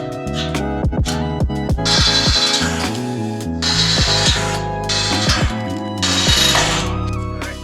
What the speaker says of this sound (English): there's 4 holes that I need to drill, 1 on each corner going in that way.